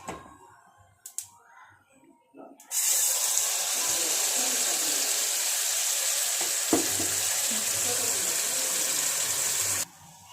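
Blended chutney poured into a hot mustard-seed and cumin tempering, which bursts into a loud, sustained sizzle after a few quiet handling sounds and then cuts off abruptly.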